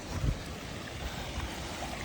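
A forest stream gurgles and flows in a steady, close, low wash of running water, with a brief soft bump near the start and no one speaking.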